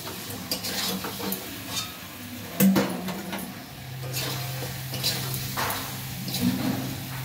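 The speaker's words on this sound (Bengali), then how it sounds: "একটু আঁচ বাড়িয়ে নাড়াচাড়া করে আমরা জল ঢেলে দেব।" Marinated chicken being stirred and fried in a pan, soft sizzling under intermittent scraping and clinking of a utensil, close and fairly quiet.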